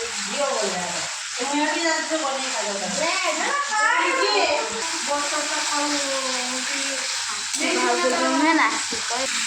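Tomatoes and mixed spices sizzle and fry in a pan for a potato curry (aloo kasha) served with puri, a steady crackling sizzle with stirring, heard close under continuous talking.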